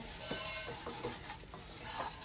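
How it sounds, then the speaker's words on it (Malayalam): Vermicelli is stirred and roasted in ghee in a pan, with soft repeated scraping strokes over a faint steady sizzle, close and quiet. "ബ്രഹ്മസലി സേമിയ പല പേരുകളിൽ അറിയപ്പെടുന്ന ഇവനെ ഇപ്പൊ നമ്മൾ വറുക്കുകയാണ്"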